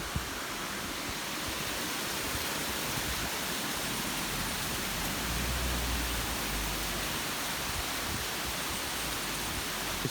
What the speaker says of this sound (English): underneath the bridge, the falls continues